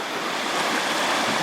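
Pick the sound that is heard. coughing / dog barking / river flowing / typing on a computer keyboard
river flowing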